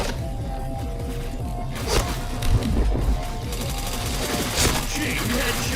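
Bursts of gunfire from a shooting video game, several sharp shots clustered in the middle over a dense, busy game soundtrack, with a voice talking now and then.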